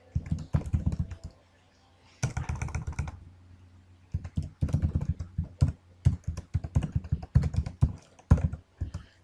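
Rapid clicking keystrokes on a computer keyboard while an email and password are entered, coming in close bursts of typing separated by short pauses.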